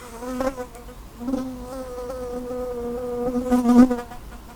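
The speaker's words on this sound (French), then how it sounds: "C'est une abeille, ça je pense, ça m'inquiète pas." A bee buzzes close by outdoors among dry-stone huts in the Pyrenees, a steady droning hum that wavers in pitch and swells louder near the end as the insect moves around, with no voices.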